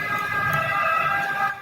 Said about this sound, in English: That's a noisy ambulance.